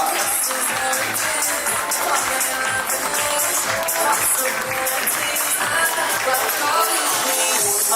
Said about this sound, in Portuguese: Fuerte las palmas para Eric.